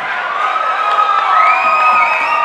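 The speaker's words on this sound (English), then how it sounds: "And the crowd here urging on the two guys from Tijuana." A boxing crowd cheers on two fighters from Tijuana, a continuous loud roar of shouts and whoops that rises in pitch and intensity midway.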